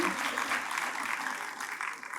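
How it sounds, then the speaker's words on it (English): An audience at a college fest inaugural ceremony breaks into applause for students, a dense wash of clapping that holds steady and tapers slightly toward the end. "So may we have a big round of applause for them"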